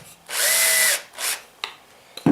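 A power drill drives small screws into shed door trim without pre-drilling, giving one long steady whine followed by a shorter second burst and a couple of faint clicks, close and alone.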